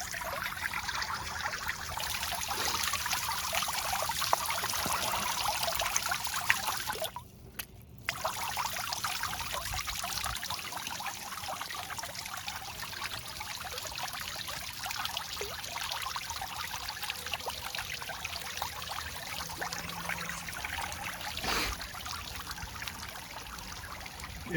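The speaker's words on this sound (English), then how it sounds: "adjust it once more and watch the waterfall kick in" Water trickles and splashes continuously from a waterfall into a pond, driven by a 300 GPH pump, a soft steady flow with a brief dip partway through, fairly faint and without voices.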